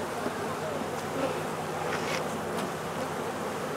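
Honeybees buzz around an open hive, a steady, fairly faint drone with occasional louder passes of single bees close by.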